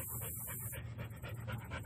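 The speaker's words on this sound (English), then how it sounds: "I got dogs trying to throw balls and stuff at me" Several dogs pant hard while playing with balls, close and fairly loud, in quick breathy bursts with some rustling movement and no talking.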